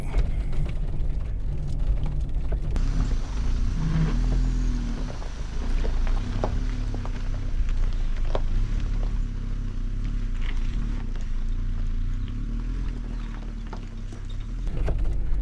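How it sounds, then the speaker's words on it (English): Four-wheel drive vehicle crawling along a rocky forest road in Arizona's Cave Creek Canyon, with a steady low engine rumble and intermittent knocks and rattles from rocks under the tires, loud and close throughout. "I got it in four-wheel drive so I can get through some of these rocky areas"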